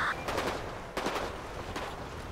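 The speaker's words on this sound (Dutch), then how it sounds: "Schieten met een SMG?" Submachine-gun fire in a video game: a few rapid bursts of shots ring out over a dense, noisy background, fairly close.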